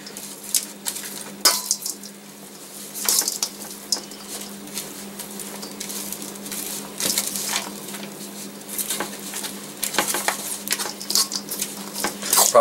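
A fork works through a bacon cheeseburger filling with mushrooms and cream cheese in a bowl, a run of soft irregular taps, scrapes and squishes over a steady low hum, close with no talk.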